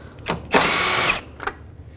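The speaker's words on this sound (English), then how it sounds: "use a 10mm socket and take these two bolts out on the side." A power drill fitted with a 10mm socket spins out a bumper bolt on a 2011–2014 Chrysler 200, giving one loud, close whir of about half a second between two short, quieter bursts.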